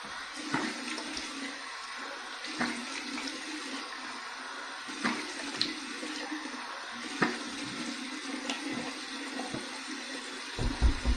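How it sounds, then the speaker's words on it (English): Cold tap water running steadily into a bathroom sink for a post-shave rinse, a continuous hiss broken by irregular splashes and drips as hands scoop water, fairly close and without talk. "here's my cold water rinse. Good and cold. Cold water rinse."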